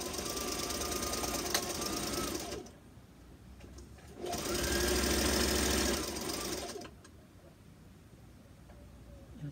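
Sewing machine stitching a fabric face mask, two close bursts of fast, even motor whirring and needle chatter separated by a quieter pause.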